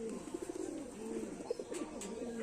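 Pigeons, including a Taki-eyed male and Dobaj birds, coo in soft repeated low rolling phrases close by, several calls overlapping continuously with no talk.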